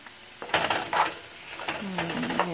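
Carrots sizzle in a frying pan while being stirred, giving a soft continuous hiss broken by scraping stirring strokes and a few light clinks of utensil on pan, with a brief faint tonal sound near the end.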